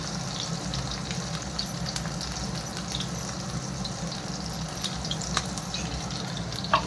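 Cumin, chopped garlic and onion fry in a pan with a steady, close sizzle, a continuous crackling hiss marked by a few sharper spatters and light clinks.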